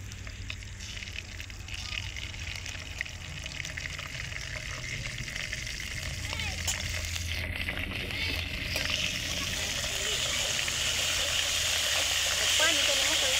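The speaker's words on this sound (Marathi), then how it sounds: "लसूण पेस्ट टाकते." Garlic paste sizzles in a pan on a wood-fired stove, giving a steady hissing fry with a faint watery bubbling that grows slightly louder over time, close by, with a voice faintly in the background.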